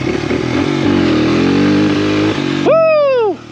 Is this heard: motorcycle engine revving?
yes